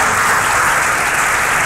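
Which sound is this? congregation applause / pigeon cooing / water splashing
congregation applause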